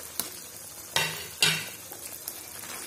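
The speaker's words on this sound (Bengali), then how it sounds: "এখন আমি এখানে আমার কোফতাগুলো দিয়ে দিচ্ছি" Fish koftas go into simmering gravy in a pan: a soft, continuous sizzle broken by a few sharp scrapes and knocks as the pieces are added and stirred, heard alone and fairly close.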